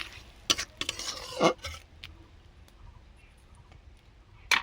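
Pineapple chutney with ground cardamom and cashew stirred in a pan in a village kitchen: faint scraping stir strokes and soft clicks of the spoon against the pan, close but quiet, with a gentle simmer beneath.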